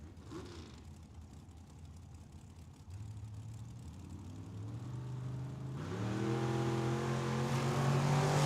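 At a Tucson Dragway drag race, a supercharged dragster and a Camaro rumble at the line and then build into a loud rising engine roar as they launch, with no talk.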